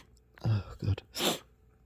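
A muffled, stifled sneeze indoors, preceded by a couple of short breathy catches and ending in a brief hissing burst, quiet and close.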